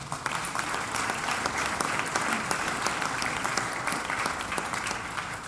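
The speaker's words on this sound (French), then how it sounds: "je pense que vous pouvez les applaudir" Audience applause at a French intercommunal association's New Year greetings event, dense sustained clapping from a large hall crowd, steady throughout.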